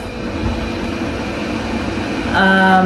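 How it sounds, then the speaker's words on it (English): An electric kettle heats water indoors, giving a steady rushing hiss and low rumble close by that swells slightly near the end, with a faint tone rising above it. "yeah, that's my kettle that's on."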